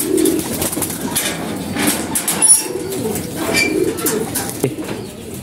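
Domestic pigeons in a loft coo in soft, repeated low calls at close range, with occasional rustling and a faint voice in the background.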